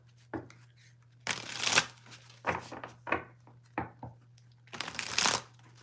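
A Love Tarot deck is shuffled close by in several brisk bursts of riffling and card slapping, separated by short pauses, with no voices.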